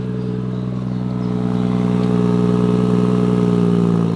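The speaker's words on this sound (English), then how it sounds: "let's start the car because the 6-cylinder is so magical" BMW M140i six-cylinder engine catching and settling into a steady, throaty idle that swells slightly, close and loud with no talk.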